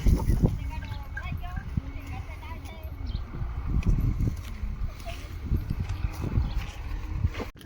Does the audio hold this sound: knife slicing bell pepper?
no